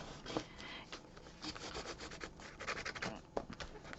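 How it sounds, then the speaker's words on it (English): Paper is burnished down onto a journal page, giving a soft, uneven rubbing and scratching in short strokes, quiet and close, with no voices. "I'm just going to burnish it down."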